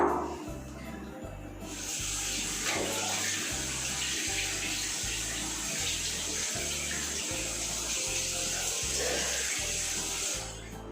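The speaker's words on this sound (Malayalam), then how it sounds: "ഇനി നമുക്കിത് നല്ല നോർമൽ വാട്ടറിൽ തന്നെ കഴുകി കളയാം." Tap water runs steadily while homemade face wash is rinsed off with plain water. The close, continuous splashing stream lasts throughout, over a faint pulsing hum.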